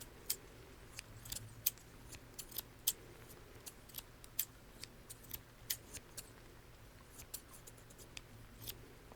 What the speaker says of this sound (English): I have 2 pairs of scissors.